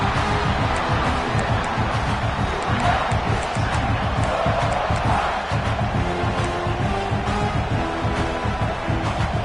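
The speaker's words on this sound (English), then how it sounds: "The roar of the crowd trying to fuel this defense to keep them pinned in their own end." A packed stadium crowd at a Clemson vs. South Carolina college football game roars in a steady, dense wall of noise that stays loud and unbroken throughout.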